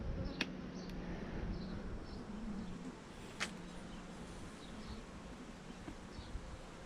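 A low, steady buzz of many honey bees humming together in an open hive, with a few brief clicks and taps of movement scattered through it.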